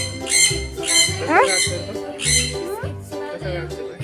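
Parrots at a bird park give repeated harsh, loud squawks close by, several overlapping calls in quick succession with rhythmic low thumps underneath.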